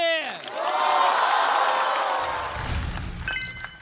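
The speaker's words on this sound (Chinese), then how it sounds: "我们掌声有请77。" Audience applause and cheering greet a stand-up comedian walking onstage at a televised comedy competition, a loud, sustained crowd roar lasting about three seconds before tapering off.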